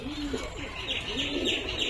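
Pigeons in a loft giving rolling, warbling coos, several overlapping calls close by and fairly quiet.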